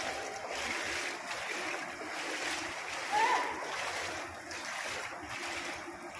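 Floodwater splashing and rushing along a flooded street in Manila during a typhoon: a continuous, wave-like wash of water with wind noise buffeting the microphone, steady and moderately loud throughout.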